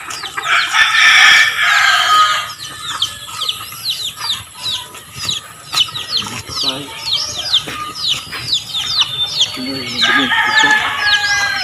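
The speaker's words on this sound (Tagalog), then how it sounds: "Manglawog mig manok." Chickens cluck and chatter in a busy chorus on a small backyard farm where pigs are also kept, with a rooster crowing loudly near the start and again at the end, close and vivid.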